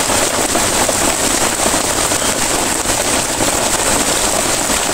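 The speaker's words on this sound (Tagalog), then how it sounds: "Umuulan pa," Steady, loud rain pours down outdoors, a dense, constant hiss of drops hitting surfaces close by, unbroken and without talk.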